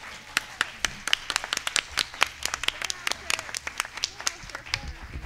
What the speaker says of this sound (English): could we have a round of applause to these wonderful,